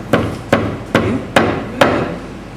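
A hammer pounds wet papyrus to press out water, five loud, evenly spaced thuds each ringing briefly before the next blow.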